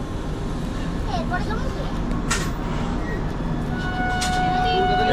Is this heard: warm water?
no